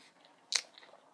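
One sharp, close crunch as a bite goes into crunchy broccoli, followed by quieter chewing sounds.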